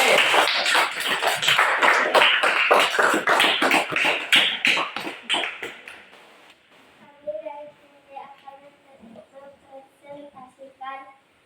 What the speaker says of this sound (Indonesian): Beri tepuk tangan dulu untuk kelompok C.